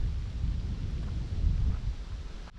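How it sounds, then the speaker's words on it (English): Wind rumbles and buffets a microphone outdoors in a state park by lakes and trees, a steady low roar with no voices, ending in a brief sharp crackle. "Starting to get a little bit windy."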